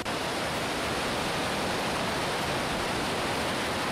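A mountain stream of water flowing at Bandhar on the Satopanth trek, a dense steady rushing roar, close and loud, with no break.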